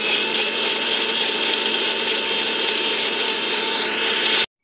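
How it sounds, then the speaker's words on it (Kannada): A mixer grinder whirs steadily and loudly as it grinds mango pieces with crushed cardamom and a little water into juice, running continuously for several seconds before cutting off abruptly at the end. "ನೋಡಿ ಇವಾಗ ನಾವು ಇದನ್ನು ಗ್ರೈಂಡ್ ಮಾಡಿಕೊಳ್ಳುವ."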